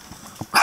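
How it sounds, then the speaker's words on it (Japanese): A single short dog bark near the end of a brief moment at home with a small dog, preceded by a faint yip, close and fairly loud. "ワンワンてだ、ワンワンてだ。"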